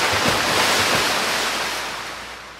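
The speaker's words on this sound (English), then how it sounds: "It was their flushing that saved Bubbles." Cartoon effect of thousands of toilets flushing at once: a loud, steady, broad rushing roar of water that swells and then slowly fades over a few seconds, with no voices.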